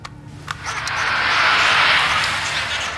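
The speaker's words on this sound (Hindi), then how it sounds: "एक एसयूवी टाइप हेवी इंजन की आवाज है जो" A heavy SUV-type engine passes at around 60 km/h, a rising then sustained broad roar that swells and holds, fairly loud and close, with no talk over it.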